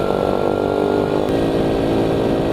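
A Honda Cub motorcycle on a café ride, its small engine droning steadily and loud close-up, a continuous buzzing hum with wind over it and no speech.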